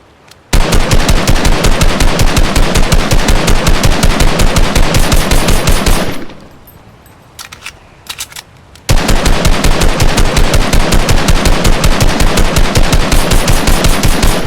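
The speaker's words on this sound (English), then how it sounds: "the Confederates opened fire on Fort Sumter" Confederate gunfire on Fort Sumter in 1861: loud, rapid, machine-gun-like bursts of shots in a dense rhythm, broken by a pause of a few seconds with scattered shots, then resuming just as intensely.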